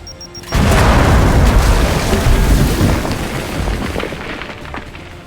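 A frag grenade in the Gears 5 video game bursts with a sudden loud boom, then a heavy, rumbling roar that slowly fades over several seconds, with no talking.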